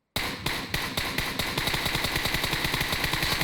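Rapid automatic gunfire in PUBG Mobile, a loud close burst of evenly spaced shots firing continuously after a brief silence.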